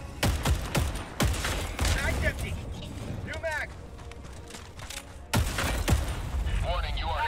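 Gunfire in Helldivers 2, with rapid volleys of shots and heavy impacts in bursts, loud and close, amid in-game chatter and other voices talking over the action.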